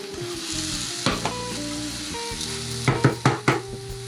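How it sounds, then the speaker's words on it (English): Vegan kimchi fried rice sautéing in a pan, a steady sizzle running throughout with a few sharp scrapes and knocks of a utensil stirring against the pan near the end, close and moderately loud. "just saute a little bit"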